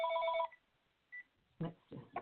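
A telephone rings in a short electronic tone burst, followed by a brief beep, then a person talks nearby.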